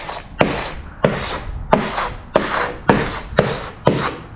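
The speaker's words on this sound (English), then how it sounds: "I use this scraper right here. Very good tool, and then I just scrape" A hand scraper rasps over old coating on a sailboat hull bottom in seven steady, evenly spaced strokes, each a close, gritty scrape with a sharp start, and no voices.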